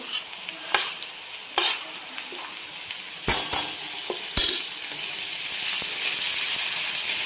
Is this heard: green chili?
yes